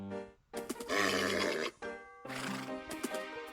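A horse in the video game Minecraft whinnies and snorts in several loud, close bursts, breathy and shrill, with short pauses between them.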